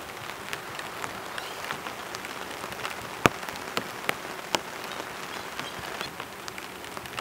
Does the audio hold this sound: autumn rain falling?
yes